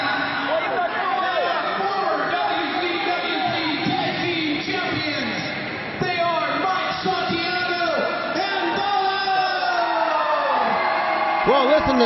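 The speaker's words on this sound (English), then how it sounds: "listen to this crowd, Pat." A wrestling arena crowd at a tag team match roars and whoops continuously, a dense, loud wash of cheering and shouting with scattered yells throughout.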